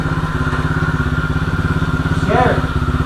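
A pit bike engine running after a top end rebuild, a loud close rhythmic putter steady throughout, with a voice briefly calling out over it near the end.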